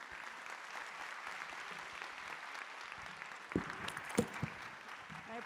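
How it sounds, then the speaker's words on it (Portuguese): Steady audience applause at a launch event in Rio de Janeiro, moderate and continuous throughout, with a few louder nearby claps and knocks toward the end. "Palmas para a psicóloga."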